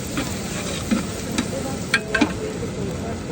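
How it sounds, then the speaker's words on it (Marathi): Potatoes and onions cook in a pot under a constant sizzle, with a few distinct clinks and scrapes of a stirring spoon at irregular moments. "आता बटाट शिजेपर्यंत आपल्याला बटाट कांदा शिजवायला लागेल"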